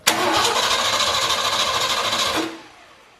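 A Ford 351 V8 cranks loudly and close by, the starter churning in a fast rhythmic pulse for about two and a half seconds before it cuts off into quiet.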